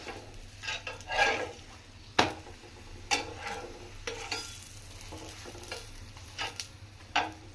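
Wheat chapati cooking with ghee on a hot pan, a soft steady sizzle with occasional sharp taps and scrapes from turning it, quiet and close, no talking.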